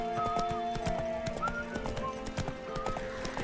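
A horse in the video game The Witcher 3 gallops in a quick, regular clip-clop of hooves, with whinnying calls over the hoofbeats, close and clear.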